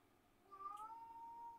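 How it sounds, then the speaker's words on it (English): A house cat gives one short, fairly faint meow rising out of a quiet room, with no talking over it. "Oh, that was my cat."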